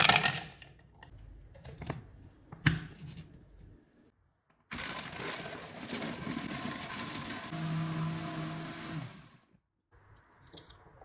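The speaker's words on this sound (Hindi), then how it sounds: "आइस क्यूब्स डालेंगे और ब्लेंड कर लेंगे।" A kitchen blender whirs steadily for several seconds as it blends cold milk with dates, nuts and ice cubes, preceded by a few knocks and clatters and ending with a quieter tail of motor hum.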